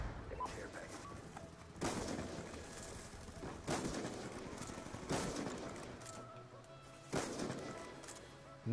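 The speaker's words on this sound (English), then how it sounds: "Are my guys just shooting randomly or are they actually shooting at stuff?" Teammates fire weapons in Call of Duty: Black Ops 2, heard as fairly quiet, repeated bursts of gunfire spaced a second or two apart over a low, steady background.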